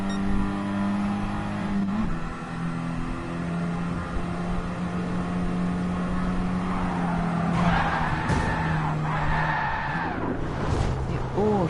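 A collision in the racing video game Gran Turismo Sport, with steady engine drone, tire skids and a burst of crunching impact noise late on, mixed with game audio throughout.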